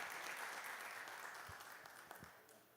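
An audience at a talk claps steadily in a broad, even burst of applause that fades gradually over a few seconds, with faint voices beneath it.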